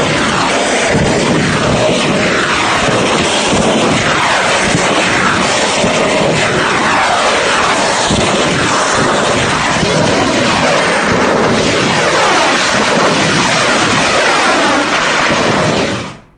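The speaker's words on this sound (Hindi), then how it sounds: "चारों तरफ एक के बाद एक धमाके शुरू हुए।" Explosions from Iranian drone and missile strikes on Tel Aviv roll on as a dense, loud, continuous rumbling roar with overlapping booms that fill the whole stretch before cutting off abruptly at the end.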